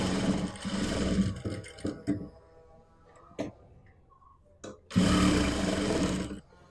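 A sewing machine stitches a churidar being made from an old narrow bed sheet, running in two steady whirring bursts separated by a pause filled with light clicks and handling noises.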